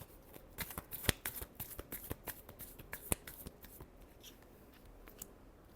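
Tarot cards are shuffled by hand in a rapid series of crisp, close card snaps and riffles that fade into lighter flicks toward the end, with no one talking.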